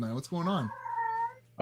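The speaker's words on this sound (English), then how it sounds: "that's my cat." A female cat in heat yowls loudly and close, a long wavering cry that slides down in pitch before a voice cuts in at the end.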